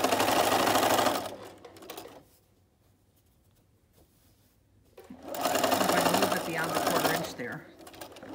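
Bernina sewing machine running gathering stitches on double gauze fabric: a close, steady rapid whirring stitch burst, a quiet pause, then a second burst of stitching.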